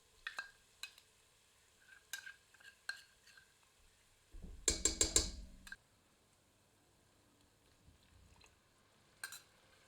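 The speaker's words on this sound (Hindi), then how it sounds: "सबको अच्छी तरह मिलाते हैं और 2 से 3 मिनट मध्यम आंच पर भूनते हैं।" A spice mixture is stirred into goat keema in a pan: sparse spoon ticks and scrapes, then a brief loud burst of sizzling frying and clatter, fading back to quiet stirring.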